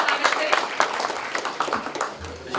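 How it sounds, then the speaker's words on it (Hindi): A burst of clapping welcomes a chartered accountant guest at a family get-together, a short spell of brisk, uneven claps from a small gathering mixed with voices. "श्री चरण जी हमारे चार्टर्ड जोरदार ताली से स्वागत करें।"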